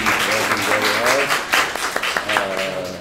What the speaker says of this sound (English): Batul, I would like you to applaud Batul.